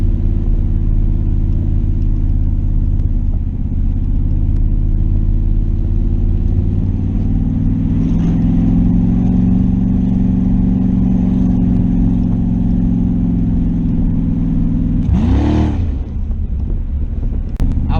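A Chaos Theory Chevrolet Camaro engine cruises at about 45 mph, giving a loud, steady low drone inside the car with a slight swell midway and a brief change near the end.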